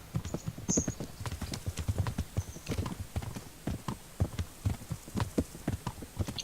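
Horse hooves clop in the medieval video game Kingdom Come: Deliverance, a steady, close rhythmic beat of hoofbeats running throughout at moderate loudness.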